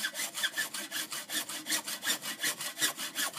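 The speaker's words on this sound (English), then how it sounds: "any hacksaw, cut PVC" Quick, regular strokes of a hacksaw cutting PVC pipe at an angle under a basement sink: a close, rhythmic rasping with around fifteen even passes and no voices.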